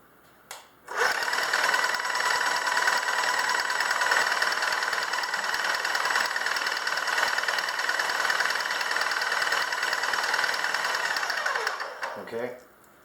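A Graco ProX17 airless paint sprayer pump runs on prime. It starts abruptly with a loud, steady mechanical buzzing hum that holds for about eleven seconds, then winds down and stops.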